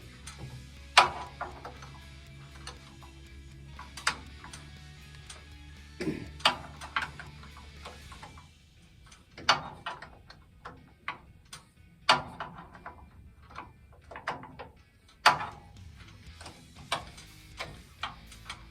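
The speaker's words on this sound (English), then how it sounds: "You almost just have to use a wrench, not a socket wrench or anything like that." Clicking and ratcheting of a wrench adjusting the steering on a Ford Model A classic car, with sharp irregular metallic ticks and taps scattered over faint background hum, close and fairly quiet, no talking.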